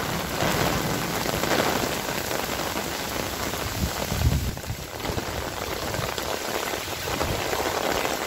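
Heavy rain pouring down in a rainstorm, a close, dense and constant hiss of drops hitting surfaces, loud and unbroken with no voices.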